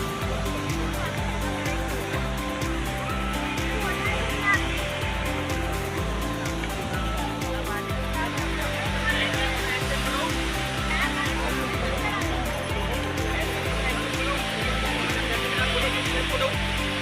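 The Patalpani waterfall near Indore roars as a dense, steady rush of falling water. It stays loud and unbroken, with a rhythmic musical pattern running underneath.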